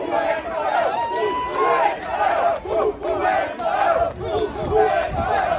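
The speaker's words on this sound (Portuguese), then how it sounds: "a torcida do Esporão comemorou de novo" Football supporters at a local championship match cheer and chant together, a loud, continuous crowd roar rising and falling in surges, with shouted voices layered through it.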